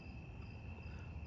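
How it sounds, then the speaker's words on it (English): Crickets chirp steadily in the background on a quiet night outdoors, a faint continuous high-pitched trill running through the whole moment with no voices. "Don't know if you can hear the crickets in the background"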